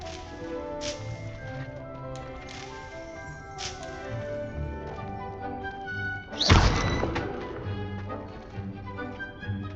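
Chomping cabbages hurled at a training dummy in the Hogwarts Legacy video game, one heavy thunk and splatter mid-clip over ongoing game music and ambience.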